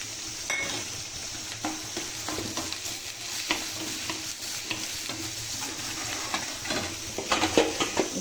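Onions and salt frying in a pan, with a continuous sizzle under repeated stirring scrapes and light clinks of a utensil against the pan, close up and without talk.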